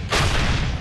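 A tank gun fires an armor-piercing shell in a single loud, close boom that rumbles on briefly afterward.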